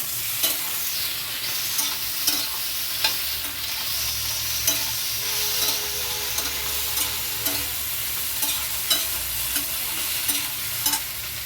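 Saucy potato and capsicum curry finished with tomato ketchup is stirred in a pan, with a steady wet sizzle under repeated scraping and clinking strokes of the spoon at a regular pace, close and alone.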